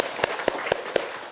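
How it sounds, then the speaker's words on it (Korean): A small audience at a Korean Buddhist sutra lecture claps four sharp, evenly spaced times in a quick rhythm over a soft background. "박수 한번 반갑습니다. 박수."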